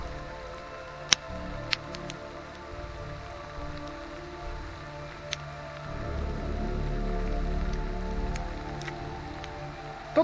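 Heavy rain pours outside a derelict villa, a constant hiss with scattered drip ticks that swells louder in the second half, with no voices.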